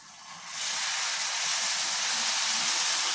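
Stuffed brinjal fry in a hot pan hisses loudly as a little water is poured in, a steady, close, bright sizzle that jumps up after half a second and holds to the end.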